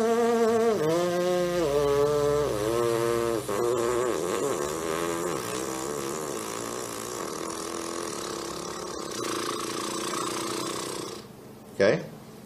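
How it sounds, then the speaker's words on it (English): A trumpet plays a descending arpeggio in smooth stepped notes, close and clear, with the final notes breaking into a buzzy lip flutter, then a brief thump at the end. "the last five or six notes, it becomes a kind of a hybrid lip buzz slash lip flutter or lip flap"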